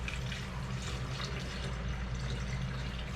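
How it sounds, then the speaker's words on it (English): Water poured into a quick bread mixture of mandarin and cranberry, a steady close splashing and trickling stream running throughout without pause. "I'm going to add some water to this"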